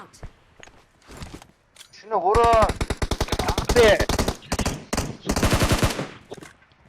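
Rapid bursts of automatic gunfire from a video game rattle on for several seconds, loud and close, with someone talking over the shooting.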